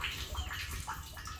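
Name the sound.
pump pouring out used fish water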